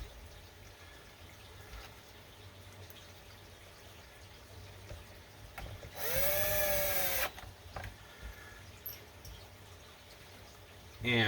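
A power drill briefly drives screws to refasten the cover of a Danner AP20 pond pump, one loud burst of about a second against quiet background noise, with a short buzz at the end.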